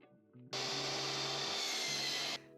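A power saw cutting a 1x4 wood board for framing a Ford Transit van, a loud close steady whine lasting about two seconds after a brief motor spin-up.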